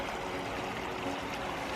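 Flowing stream water rushes steadily over rocks, a dense continuous broadband wash that stays loud and even throughout with no voices.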